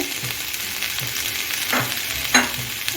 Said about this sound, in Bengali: এখন আমি সব কিছু আবার দু মিনিটের মতো একসঙ্গে ভেজে নিচ্ছি